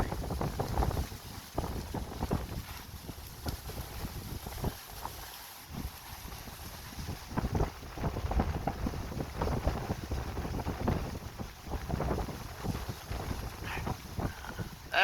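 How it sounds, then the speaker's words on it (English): Steady rain falling with gusty wind buffeting the microphone outdoors during a summer storm, a continuous faint rushing wash with uneven gusts and no thunder. "The most exciting thing that's happening right now is rain's falling. And it's windy."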